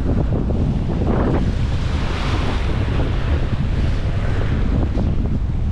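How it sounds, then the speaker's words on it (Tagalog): Strong wind buffets the microphone over steady crashing surf on a Sorsogon beach, a loud, continuous roar with no voices. "Lakas yung hangin. At may alon din dito sa tabi, oh."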